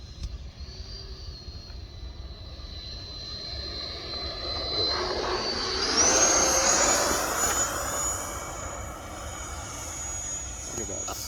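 A Freewing F9F Cougar RC jet in calm air makes a touch-and-go, its ducted-fan whine rising as power comes on and swelling loudest midway as it passes near, then easing off.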